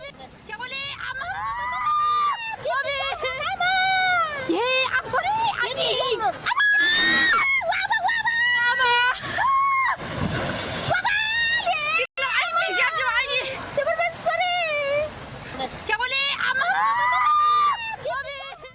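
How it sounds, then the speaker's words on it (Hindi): Many people scream and wail in panic as a four-storey riverside house collapses into a flooded river in Nepal; loud, near, overlapping shrieks and cries run almost continuously, with a rushing roar in the middle. "वहां पर चीख पुकार मच गई"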